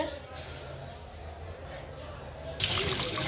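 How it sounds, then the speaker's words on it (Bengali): Raw meat being washed by hand in water in a home kitchen, with a steady trickling and sloshing and a louder splashing burst near the end. "এই যে মাংসগুলো ধুয়ে নিচ্ছি ভালো করে।"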